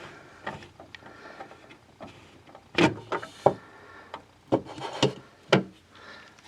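A plastic bathroom sink drain pipe fitting being unscrewed by hand, close irregular scrapes, creaks and thumps of rubbing plastic with quiet gaps between.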